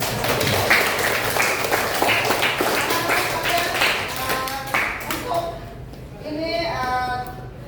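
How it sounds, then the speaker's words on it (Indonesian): Students in a classroom clap their hands together in a lively burst, with sharp individual claps up close; the clapping fades toward the end as children's voices and an adult speaking come through. "Tepuk tangan dulu untuk"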